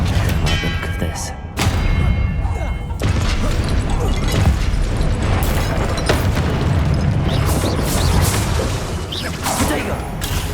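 Booming Confringo explosion spells in Hogwarts Legacy, a heavy blast near the start followed by repeated thuds and bursts of magical combat, loud and close, with a voice casting spells over the noise.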